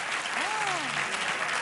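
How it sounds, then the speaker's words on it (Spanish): Loud applause from a studio audience at the Nuestra Belleza Latina 2015 televised beauty pageant fills the short stretch, while a voice rings out over the clapping. "Fuerte el aplauso para ella, por favor."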